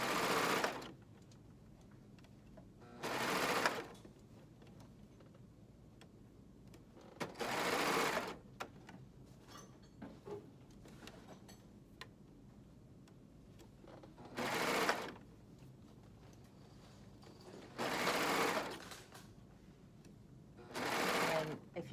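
Sewing machine running a cover stitch along a T-shirt hem in repeated bursts of fast, loud whirring, each a second or so long and separated by quiet pauses, with a person speaking softly between the bursts.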